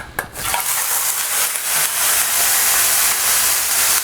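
Green chillies fry in oil over a full flame, a continuous loud sizzle and hiss close up after a brief clatter at the start.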